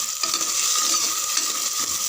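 Chopped onion, two tomatoes and curry leaves sauté in a hot pan, producing a loud, continuous crackling sizzle with spoon-stirring scrapes throughout and no talk.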